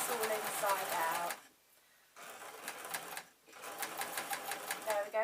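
Sewing machine stitching fleece slippers in rapid, steady mechanical bursts that stop briefly twice, while someone talks softly over the whirring.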